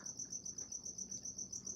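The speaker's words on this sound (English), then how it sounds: "Yes, we also have crickets." Crickets chirp in a fast, regular pulse, a thin high trill repeating steadily and quietly with nothing else heard.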